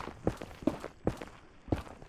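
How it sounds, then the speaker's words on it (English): Player footsteps in Minecraft, a hardcore survival game, sound as four evenly spaced soft thuds about every half second, close and clear with no talking over them. "I think it is my footsteps."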